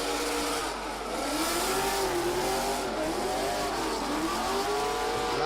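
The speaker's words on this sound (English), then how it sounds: "he puts the foot down now and listen to the screams of the V8" A V8 drift car's engine screams through a corner during qualifying at the Oman International Drift Championship, revving high and wavering in pitch as it holds the throttle, loud and continuous with no talk.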